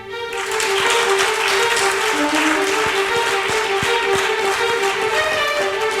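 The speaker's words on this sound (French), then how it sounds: "Applaudissements tout simplement pour Ben Ali Ouedraogo." Steady, loud audience applause fills a studio setting as a guest is welcomed onto a French-language café talk show, sustained clapping throughout with a faint tonal hum underneath.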